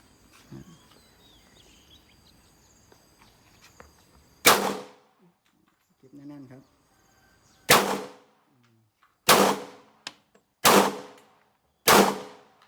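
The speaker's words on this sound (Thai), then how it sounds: "เดี๋ยวจะลองยิงดูระบบการทำงานของปืน" An STI Spartan .45 steel pistol fires six sharp, loud shots at uneven intervals, each with a short ringing tail, after a few seconds of quiet handling clicks and a faint mechanical clatter.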